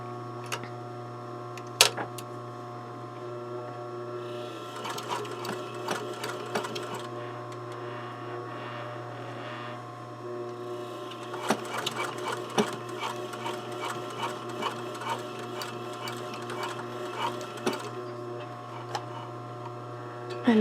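A sewing machine stitches the side seam of a garment's neck and armhole facing, running in several bursts of rapid mechanical ticking over a steady low mains hum, close and moderately loud, with no talk.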